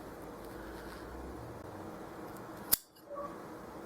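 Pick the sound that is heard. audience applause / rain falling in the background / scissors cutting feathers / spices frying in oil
scissors cutting feathers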